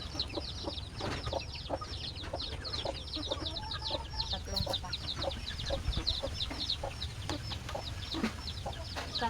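Chickens cluck continuously at close range with chick peeps in a farmyard, a steady busy chorus of overlapping calls through the whole stretch, with no talk.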